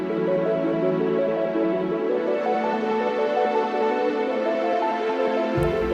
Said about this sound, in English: I love using the M1. It's a soft string, just follows the chords from above